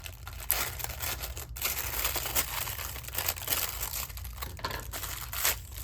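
Crinkly plastic packaging around a roll of washi tape is cut open, producing steady crumpling and crackling rustles with sharp crunchy snaps, close and continuous throughout.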